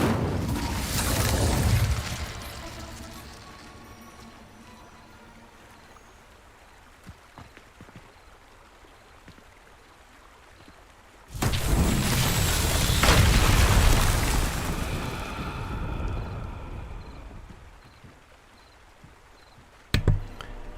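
An Incendio fire spell cast in Hogwarts Legacy, a loud whooshing blast at the start and another sustained roaring burst midway, with quieter magical effects and a sharp hit near the end.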